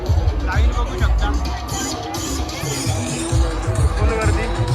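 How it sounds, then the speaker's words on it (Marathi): A dense crowd at the Mahalaxmi Jatra fair in Kasa-Charoti, Dahanu, queuing for a ride, with loud close babble of many voices and nearby talking throughout. "भावांनो गर्दी खूप आहे या पालण्यामध्ये बसायला"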